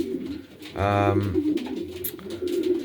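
Pigeons coo in a breeding loft holding young birds and stock birds, with one loud, close, rhythmic coo rising clearly in the middle and softer cooing and loft murmur continuing around it.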